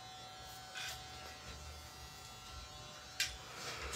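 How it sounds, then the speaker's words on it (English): An electric hair clipper runs steadily during a clipper-over-comb cut on a man's short haircut, a constant low buzz with a few brief brighter snips as it passes through hair, close and alone without talk. "moving the comb with the clipper for clipper over comb"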